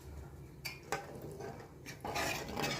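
A spoon stirs fish curry in a cooking pot, with scattered scraping and clinking knocks against the pot over a soft wet churning. It is close and moderately quiet, gets busier toward the end, and has no speech.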